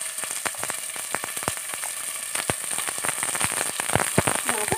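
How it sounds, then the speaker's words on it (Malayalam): Onions and shallots sautéing in hot oil, with a dense, crackling sizzle full of sharp pops and spits, steady and close throughout. "അതിനുശേഷം സവാളയും ഉള്ളിയും കൂടെ ഇട്ട് കൊടുക്കാം."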